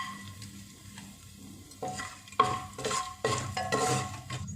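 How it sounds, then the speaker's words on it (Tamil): Five or six almonds fry in a pan with a soft crackling sizzle, broken by several bursts of stirring and clinks of a utensil against the metal, fairly quiet and close. "அடுத்தது 5-6 பாதாமையும் உள்ளே போட்டு நல்லா ஃப்ரை பண்ணிக்கலாம்."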